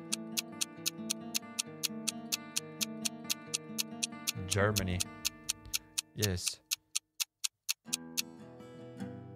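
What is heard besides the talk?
loud ticking countdown timer in a video game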